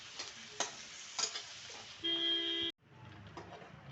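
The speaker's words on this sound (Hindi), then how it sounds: "ਗੰਡੇ ਵੀ ਆਪਣੇ ਭੁੰਨੇ ਗਏ" Chopped onions sizzle in a hot pan for a raw banana curry. A steady crackling hiss is punctuated by scraping stir strokes, then a brief electronic beep, and the frying carries on more softly afterward.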